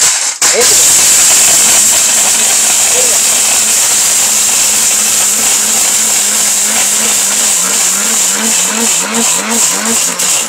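A Steel Bush blender grinding a whole brick runs as a loud, constant high-pitched roaring whir for about ten seconds, with a voice heard beneath the motor noise.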